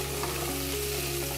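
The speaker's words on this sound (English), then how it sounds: "after you wait for your butternut to saute for a couple of minutes" Butternut squash sautés in a pot with a steady, close sizzle and faint stirring scrapes, continuous and even throughout with no voices.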